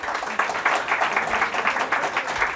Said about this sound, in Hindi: टीम के लिए तालियां होनी चाहिए।